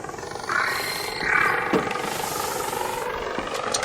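Buzzing wasp drone enemy in the ARC Raiders video game, a steady droning whir with rising swells over constant game ambience, fairly loud and close.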